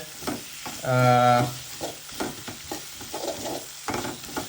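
Pieces of surma fish and pointed gourd fry in a pan, giving a close, steady sizzle broken by scraping stirs, with a brief tonal hum partway through.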